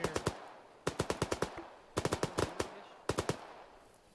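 Bursts of automatic gunfire come in four quick groups of sharp cracks, each volley three to six rounds, with short pauses between, sounding moderately distant with no talking over them.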